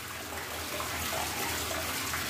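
Water from a very old, unheated shower runs in a steady, continuous spray, with no pauses, at moderate loudness.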